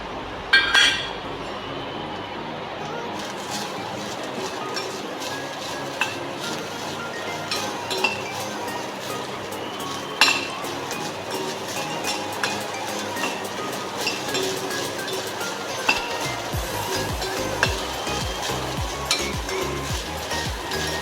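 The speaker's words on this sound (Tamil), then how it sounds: "துருவுன தேங்காயும் சீரகமும் நம்ம வதக்கிக்கலாம்." Grated coconut and cumin sauté in a little oil in a pan, giving a steady low sizzle throughout with frequent light metallic clinks of a spoon against the pan.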